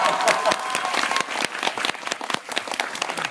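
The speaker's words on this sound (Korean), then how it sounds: "이런 박수 한번 나와야 되는 거 아니겠죠?" An audience claps and applauds continuously, a dense, lively patter of many hands throughout, at a Kim Soo-hyun event for Lemona.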